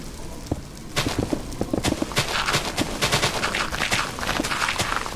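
Blocks being broken in Minecraft, a rapid run of crisp crunching, knocking hits that quickly fill into a dense, loud clatter, with no talk.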